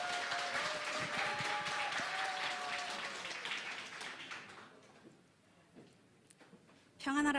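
An audience at a church gathering applauds to welcome a speaker, a dense patter of clapping that fades out after about five seconds, with voices heard over the clapping and again at the end.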